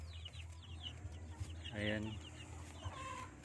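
Chickens of a cold-resistant breed clucking close by on a farm, with short rising calls and a louder squawk partway through, while someone speaks briefly.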